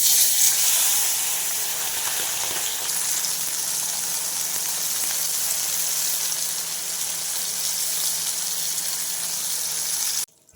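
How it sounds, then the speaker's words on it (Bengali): Fish pieces rubbed with salt and turmeric fry in hot oil with a dense, even hiss that holds steady for about ten seconds, close and loud, before cutting off abruptly. "সেগুলোকে লবণ আর হলুদ মাখিয়ে তারপর তেলের উপর ছেড়ে দেবো"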